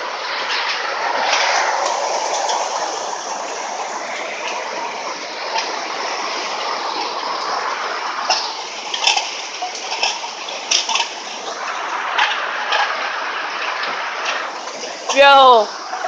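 Floodwater runs and splashes through a yard during hard rain, a steady wash with sporadic splashes and a brief squeal near the end, with people talking over it.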